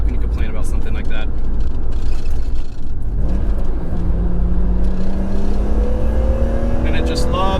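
A BMW E36 engine with manual gearbox revs up with a rising whine, climbing steadily in pitch over several seconds, loud and close.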